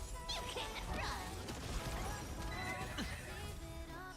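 A horse in a video game neighs and whinnies amid hoof clip-clops, crashes and thwacks, all faint under a busy game mix.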